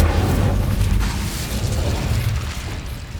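Incendio fire spell blast in Hogwarts Legacy, a loud rushing burst of roaring flame and rumble that fills the moment, with no talk.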